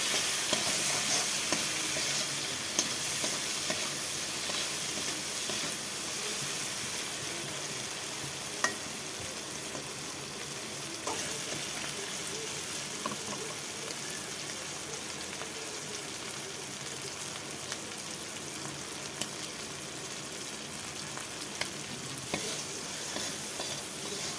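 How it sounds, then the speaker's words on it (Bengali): Prawns sizzle continuously in hot oil in a wok, with occasional light clinks and stirring scrapes throughout. "কড়াইতে চিংড়ি মাছটা ভাজতে বসিয়ে দিয়েছি।"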